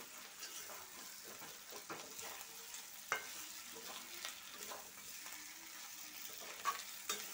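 Meat is sautéed in a pan for kosha, with a soft, continuous sizzle and irregular scraping stir strokes, heard quietly and fairly close.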